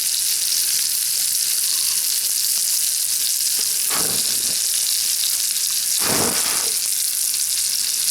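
Food cooks in a pan set on a stove made from an aluminium Bud Light bottle, giving a steady, fairly loud hiss of frying. Two louder bursts of sizzle and scraping break through it.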